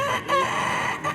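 A comedian on a comedy stage uses his voice to imitate a hen settling down to lay an egg. The short, close, tonal clucking sounds swell and dip over about a second.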